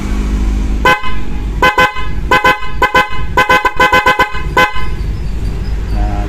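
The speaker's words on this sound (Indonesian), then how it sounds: "Jadi kurang lebih seperti ini ya suara klakson dari merek Flosser ya" A Flosser snail horn fitted to a BMW sounds in a series of loud, bright honks, short blasts and longer held tones repeating over about five seconds, with no talking.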